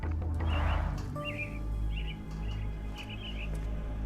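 Caged myna birds in a Sherlock Holmes game scene give a string of short chirps and whistled calls, fairly close and moderately loud, over a low steady background hum.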